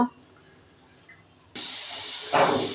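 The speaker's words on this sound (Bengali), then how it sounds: "তো এই যে আমি গাজরটা ভেজে নিচ্ছি সুন্দর করে ঘি দিয়ে।" Carrots hit hot ghee in a pan and set off a sudden loud, steady sizzle after a quiet start, with a brief swell of hissing near the end.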